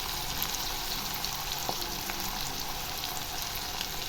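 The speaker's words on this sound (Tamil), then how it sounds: "மிளகாய் தூள் போட்டு நல்லா ஃப்ரை பண்ணிடுங்க கத்திரிக்காய் நல்லா ஃப்ரை ஆகி நல்லா சுருண்டு வரணும்" Brinjal pieces fry with chili powder in a pan for a brinjal gravy, giving a steady, close sizzle and crackle that runs throughout with no voices.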